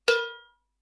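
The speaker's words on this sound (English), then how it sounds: "the rim of the cowbell, which sounds like this," A single sharp metallic clank from a cowbell struck on the rim, bright and ringing, decaying quickly to silence within half a second.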